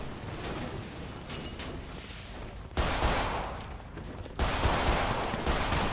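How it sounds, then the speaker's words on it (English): Continuous gunfire rattles through a GTA 5 shootout, a dense steady crackle of shots broken by two sharper, louder bursts partway through. "Okay, I'm in a shootout."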